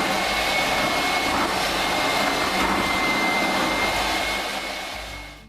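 Pancake batter with flour and yeast is beaten with a steady, loud, close whir that stays constant before tapering off at the very end.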